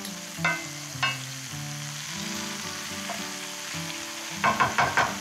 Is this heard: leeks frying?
yes